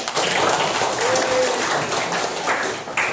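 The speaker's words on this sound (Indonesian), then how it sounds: "Ya, tepuk tangan dulu ya." Faint classroom applause, a quick soft patter of many hands clapping together, with voices murmuring faintly underneath.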